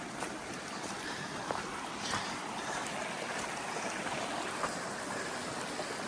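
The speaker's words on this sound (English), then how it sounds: "Just crossed this little creek right here." A small creek flows over stepping stones, giving a soft, steady rushing and trickling that stays faint and even throughout, with no voices.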